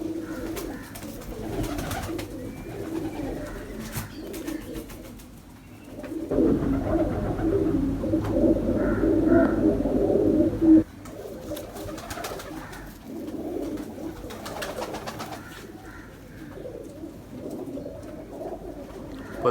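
Ferozpuri pigeons cooing in soft, repeated murmurs, with a denser, louder stretch of overlapping calls through the middle.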